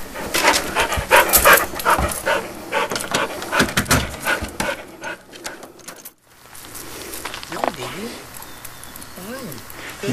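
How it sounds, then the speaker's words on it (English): Dog panting in short quick breaths at close range, heard among rustling, clunks and a person talking, with a brief pause midway. "That's my girl. That's my Twinkle. Twinkle dog"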